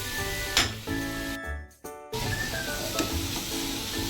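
Modak filling cooks in a pan while being stirred, a close bubbling sizzle with scraping stirs and a brief clink, broken by a sharp dropout near the middle before the sizzle resumes.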